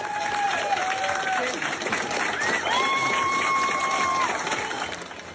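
Classmates give an ovation to a boy returning to school after his last round of chemotherapy: steady, dense applause from a crowd with a few rising cheers and whistles cutting through, continuous for the whole stretch.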